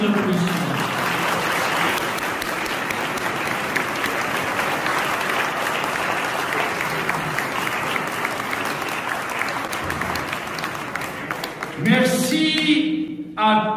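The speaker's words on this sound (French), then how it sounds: "Il mérite vos applaudissements." Sustained audience applause at an outdoor festival gathering, dense steady clapping for about twelve seconds before tapering off, followed by a burst of other sound at the end.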